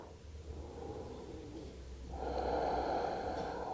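Slow, audible breathing during a gentle vinyasa yoga flow, a long soft inhale building into a louder, rushing exhale through the nose, close and alone.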